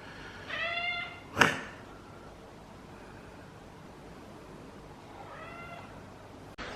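A cat meows twice, a short call near the start and another a few seconds later, with a sharp noise between them over faint background hiss.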